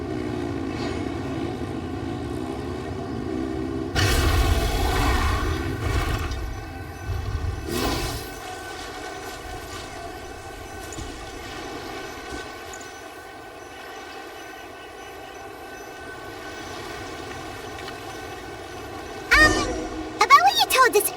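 Aircraft engines drone steadily in the video game Genshin Impact, a continuous mechanical hum under game music, swelling louder for a few seconds near the start and again at the end.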